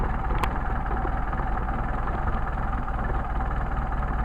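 A Mercedes 190SL engine idling on Solex carburetors, running on the first barrel only, gives a steady, close, even rumble with a faint regular pulse and no talk over it.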